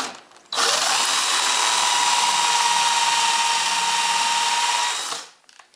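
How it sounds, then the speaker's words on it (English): A power drill whirs up sharply, holds a steady high whine for about four seconds as it bores a pocket hole into pine, then winds down and stops. "then I just drill into it until it bottoms out on the stop"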